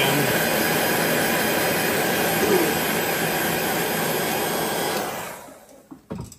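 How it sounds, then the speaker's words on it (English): A heat gun blows over freshly airbrushed paint on a fishing lure, giving a loud, steady broadband roar for about five seconds before cutting off, followed by a few faint handling knocks. "The heat gun just kind of helps it dry a little bit faster and set up"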